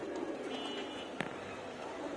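Soft cooing of pigeons bathing in winter sun in the background over a steady outdoor hiss, with one brief sharp click partway through.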